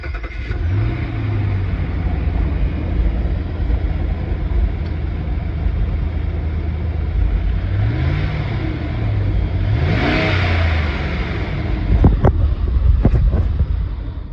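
Ram 1500 pickup on its stock OEM air intake starts up and idles, then gets a few rising revs, close and loud, with wind buffeting the microphone.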